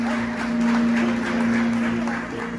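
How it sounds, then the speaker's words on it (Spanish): Applause from guests at a quinceañera celebration, a steady dense wash of clapping that stays loud and even throughout, with a sustained musical tone running underneath. "Un fuerte aplauso."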